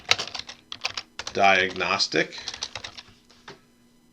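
Rapid clicking on a computer keyboard while entering a labor rate matrix, the keystrokes steady and close beneath a man's speech.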